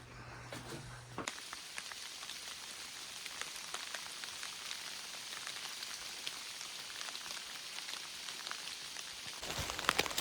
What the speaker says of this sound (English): now we're in some our first substantial rain on the trail